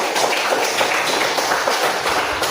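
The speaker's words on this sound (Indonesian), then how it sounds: "Kita beri aplaus bagi teman kita Aldo" A classroom of students gives a classmate a round of applause, with dense, steady clapping from many hands sustained throughout at close range.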